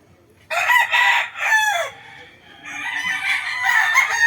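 A two-year-old Golden Boy over Lemon gamecock crows loud and close, a long harmonic cock-a-doodle-doo followed by a second crow, with no talk over it.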